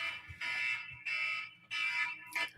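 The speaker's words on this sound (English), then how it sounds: "It's probably cascading alarms." Cascading smoke alarms sound in a home, loud shrill tones in three long pulses followed by a shorter burst, with no talk over them.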